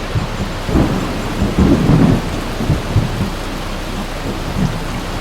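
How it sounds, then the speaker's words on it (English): Heavy torrential downpour drums steadily at a canal lock in Milton Keynes, with deep thunder rumbling in low swells through the hiss of the rain. "absolute pouring torrential rain"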